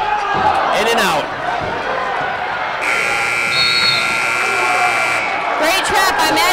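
A loud, sustained electronic buzzer sounds for a couple of seconds at a varsity girls' basketball district final in a gym, cutting through crowd noise, squeaking sneakers and a commentator's voice.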